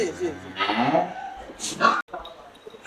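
Holstein Friesian heifers on a farm let out a couple of close, drawn-out moos, with brief background sounds between the calls.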